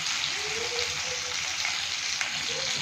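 Peeled small onions, about two handfuls, sizzling in hot oil in a frying pan, a steady crackling hiss that continues evenly throughout with no voices.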